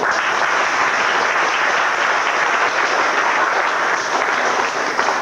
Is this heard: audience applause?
yes